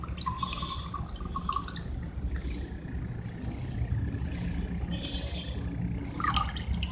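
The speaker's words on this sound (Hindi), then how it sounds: "अब हम इसे छान लेंगे।" Liquid is strained into a glass, a soft steady trickle with scattered drips over a low background rumble, fairly faint and with no voices.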